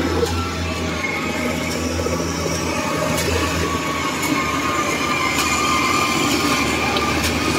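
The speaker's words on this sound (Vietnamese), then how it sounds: "Kế tiếp thì đoàn xe kéo" A convoy of tractors pulling Kubota DC93 and DC70 rice harvesters through mud, a continuous heavy rumbling drone with metallic clanking, squeals and rattling, steady and fairly close with no speech.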